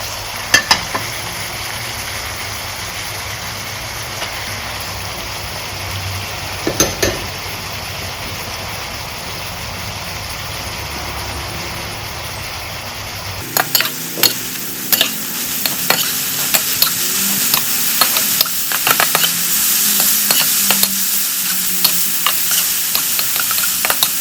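Minced pork stir-frying with cha-om (acacia leaves) in a pan, a steady sizzle with scraping and stirring that grows louder and busier partway through, close and continuous with no talking.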